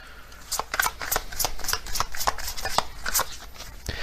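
Zodiac cards being shuffled and drawn from a deck, a run of quick, close, crisp flicks and slaps at an irregular rhythm, fairly faint.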